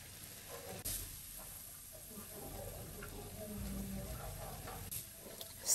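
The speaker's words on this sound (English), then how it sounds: "Now I'm gonna add my carrots." Carrots frying in a pan for fried rice, a soft continuous sizzle with faint stirring clatter, quiet and fairly close, with no talking.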